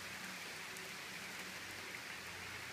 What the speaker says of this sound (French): c'est vrai qu'il pleut quand même